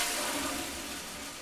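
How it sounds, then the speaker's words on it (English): An air-pressure assisted low-flow toilet flushes in one steady, loud rushing burst that holds for the whole moment and eases slightly toward the end, with no talking. "It uses an air pressure system to assist the flushing."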